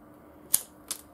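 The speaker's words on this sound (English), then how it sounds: "cut it in half at this point and then cut at the folds." Scissors cut a paper party hat at its folds, giving two short, crisp snips about a third of a second apart, close by, over quiet room noise.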